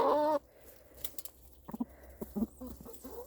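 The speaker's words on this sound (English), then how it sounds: "If you hear that little noise he makes, I can't speak rooster, but that's him calling them over." A loud rooster call opens, followed by softer, quick clucking notes as the rooster keeps calling hens over to treats in short bursts.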